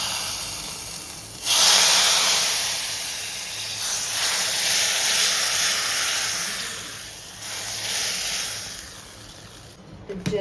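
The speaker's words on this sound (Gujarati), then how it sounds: "આપણો વઘાર થઈ ગયો છે કઢીમાં કરી દઈએ" Hot tempering of mustard seeds, cumin, asafoetida and whole spices poured into kadhi bursts into a loud, close sizzling hiss that then continues steadily for several seconds and eases off toward the end.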